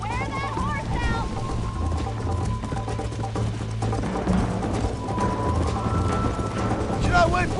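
Horse galloping in Red Dead Redemption, a steady rhythmic clip-clop of hooves under continuous game dialogue, with wind and movement noise behind.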